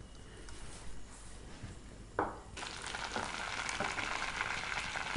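Spices and leaves are tempered in oil for a village-style mutton podimas, starting with a faint bubbling, then a clunk as something drops in and a louder, steady frying sizzle that continues to the end, with no talk.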